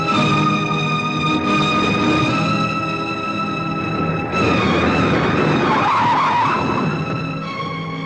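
A car skids to a stop in a Hindi action movie, a loud, sustained tire screech lasting several seconds that rises and rasps with no voices over it.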